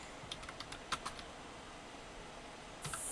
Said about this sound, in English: we're gonna type in